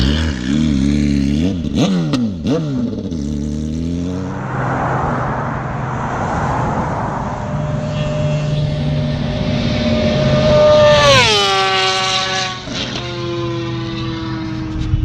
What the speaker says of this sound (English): I was able to do a little shooting here with the old Beamer with the new exhaust, so you guys can hear a quick little flyby